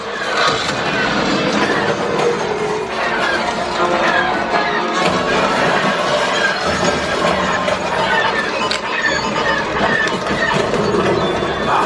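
A loud, continuous rumble and clatter of a train on the Millennium Falcon: Smugglers Run theme park ride, with voices mixed into the noise throughout.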